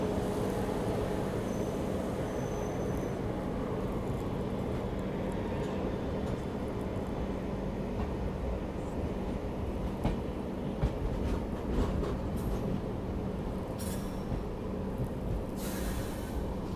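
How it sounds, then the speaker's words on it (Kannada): Continuous rumble and rattle heard from aboard the Bengaluru Rajdhani Express as it overtakes at Dharmavaram junction in India, a steady loud rolling noise with brief clanks and hiss near the end. "ಇದು ಧರ್ಮವರಂ ಜಂಕ್ಷನ್ ಒಳಗೆ ಓವರ್ಟೇಕ್ ಹೊಡಿಯುತ್ತೆ. ರಾಜಧಾನಿ ಎಕ್ಸ್ಪ್ರೆಸ್, ಕರ್ನಾಟಕ ಎಕ್ಸ್ಪ್ರೆಸ್."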